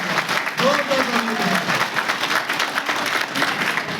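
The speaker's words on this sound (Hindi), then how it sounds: "चौधरी अब्दुल गनी जी के लिए जोरदार ताली के साथ" Crowd clapping at a BJP programme at Poonch district headquarters, honouring Chaudhary Abdul Ghani; steady dense applause with voices mixed in throughout.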